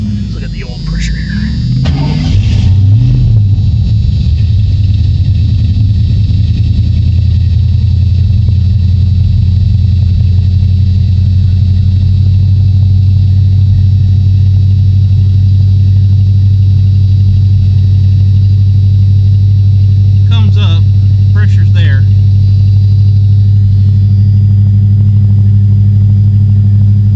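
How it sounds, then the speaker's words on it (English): A 1986 Ford Mustang 5.0 LX cranks and catches within the first few seconds, then settles into a loud, steady low idle rumble close by, with a couple of brief chirps partway through. "I'll go ahead and fire it over."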